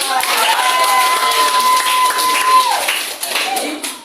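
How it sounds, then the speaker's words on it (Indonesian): Classroom students at a school English Day program clap together for a few seconds, a busy, fairly loud patter mixed with children's voices and a steady tone in the background. "tepuk tangan."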